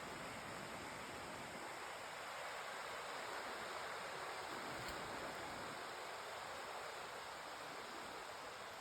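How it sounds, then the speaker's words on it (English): Stream water flowing below a dispersed campsite in the White Mountains, a steady broadband rushing wash, moderately distant and unbroken from start to finish. "Down there's the water."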